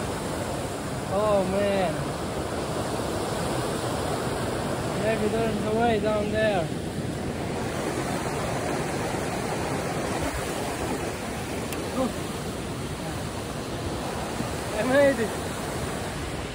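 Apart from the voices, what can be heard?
rushing alpine river being crossed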